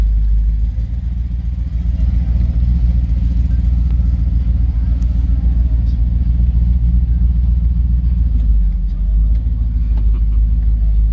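A 1962 Corvette restomod with a ZZ6 engine idling nearby, a steady loud low rumble that holds throughout with a slight rise and dip in the middle.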